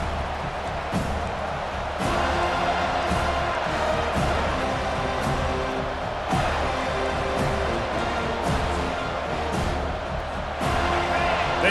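Stadium crowd roars and cheers continuously in EA Sports College Football 25 with the Seminoles kicking off, a loud, dense wall of sustained noise with a commentator talking over it.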